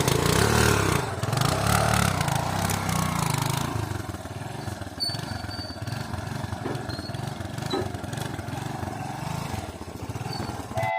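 A motorcycle is ridden on a morning trip, its engine droning steadily with a louder stretch at the start, then settling into a continuous hum under wind and road noise.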